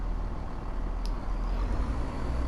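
The diesel engine of a Class 171 train in Train Sim World 6 drones low and steady as its revs build under power, with no one speaking.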